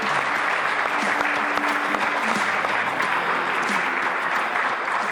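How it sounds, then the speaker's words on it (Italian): Sustained applause from an audience at a sports broadcast event honoring youth football school representatives, dense steady clapping throughout with a faint low tonal hum beneath. "un bel applauso a questi rappresentanti"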